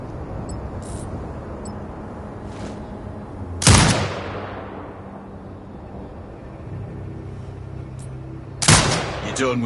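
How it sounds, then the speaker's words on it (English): A turret fires in the Sniper Ghost Warrior Contracts 2 video game, two loud booming shots several seconds apart, each with a sharp crack and a fading tail, over a steady low hum. "Exit binocular mode and command the turret to fire."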